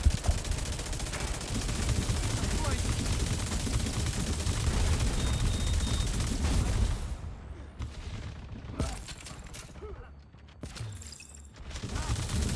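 Sustained rattling LMG bursts from The Division 2, dense rapid gunfire for several seconds, then sparser separate shots and short bursts with quieter gaps between.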